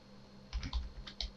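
A computer keyboard is tapped for a quick search: about half a dozen close, crisp keystrokes in a short irregular burst after a moment of quiet.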